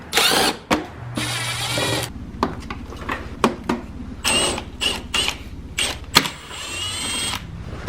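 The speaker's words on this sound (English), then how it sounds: "pull the 4 fasteners that hold this front cowl in place" Plastic fasteners being worked loose from a motorcycle's front cowl: a close series of sharp clicks, snaps and rattles in irregular bursts, with short pauses between them and no talking.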